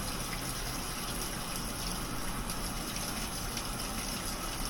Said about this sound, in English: T4, the water valves start to go.